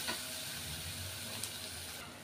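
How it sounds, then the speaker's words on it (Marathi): Chili powder masala fries in oil with onion and tomato for a dhaba-style bhogi bhaji, a faint, steady sizzling hiss heard close and uninterrupted. "मसाला चांगला तेलात आपल्याला भाजून घ्यायचं सर्वप्रथम."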